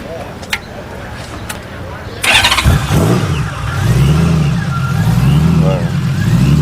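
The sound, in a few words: supercharged fuel-injected flat-six Honda Valkyrie motorcycle engine starting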